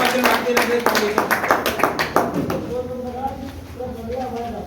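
An audience claps to welcome a speaker at a Rangrez Foundation gathering, a burst of loud applause that fades as a voice comes in over it.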